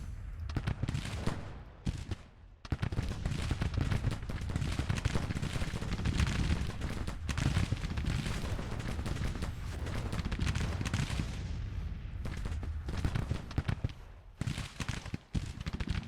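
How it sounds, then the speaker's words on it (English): Skirmishers trading musket fire in the Civil War strategy game Grand Tactician: dense, continuous crackle of rifle volleys and scattered shots, steady and fairly close for most of the stretch, thinning briefly near the end. "Now we're firing uphill, which I'm not a fan of."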